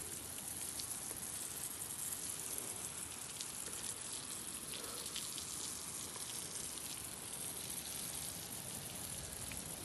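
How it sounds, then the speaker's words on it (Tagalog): Water spraying steadily onto freshly laid cement at a house construction site, a constant hissing patter like heavy rain hitting a hard surface, even and unbroken for the whole stretch at moderate distance. "Ayan dinidiligan ng husto para tumigas ng mas tumigas masyado"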